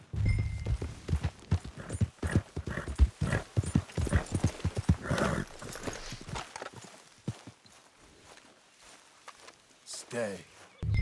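Horses' hooves clip-clop steadily in Red Dead Redemption 2 gameplay while characters talk over them, with an occasional whinny; the hoofbeats thin out toward the end.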